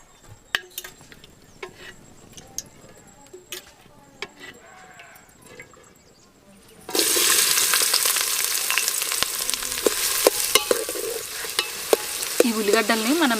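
Chopped onions dropped into hot oil in a pot burst into a loud, steady sizzle partway through, after quieter kitchen clatter, with stirring scrapes over the continuous frying hiss.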